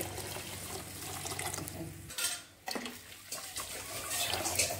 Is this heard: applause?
no